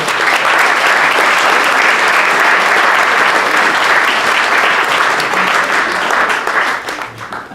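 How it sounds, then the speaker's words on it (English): A hall full of people applauds a girls' state championship basketball head coach at a Saginaw County Sports Hall of Fame event, the clapping loud, dense and steady throughout before easing slightly at the end. "You have a round of applause for Mary Jo."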